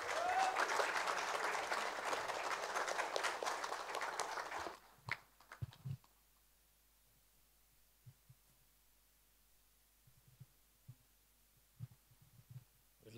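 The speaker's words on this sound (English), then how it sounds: "A round of applause for Ms." Audience applause greets Ms. Priya Adhikari, a woman helicopter pilot, at the Skill Hero Award 2023 ceremony: dense, loud clapping for about five seconds, then cutting off into near silence broken by a few faint thumps and shuffles.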